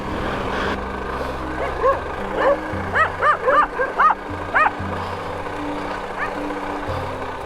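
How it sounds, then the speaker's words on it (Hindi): Dogs bark from a distance, a quick burst of several yelps and barks in the middle, over the steady rumble of a motorcycle on a Middle East road trip. "इतनी दूर से भौंक भौंक के पीछे लगे हुए"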